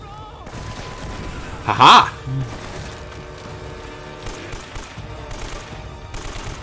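Turret gunfire in Uncharted: Drake's Fortune: a loud burst of automatic fire with a sharp peak, followed by a quieter shot, over a steady bed of game noise, while someone talks and laughs.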